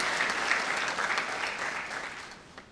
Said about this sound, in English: can we just have another round of applause for Rotary District 7030 and Rotary